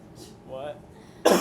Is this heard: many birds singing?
no